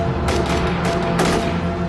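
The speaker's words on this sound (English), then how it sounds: "they started opening fire on us" Gunfire from a tower in an animated scene: loud, close bursts of rapid shots in quick succession, a few clustered volleys over a dense rumbling background, with no voices.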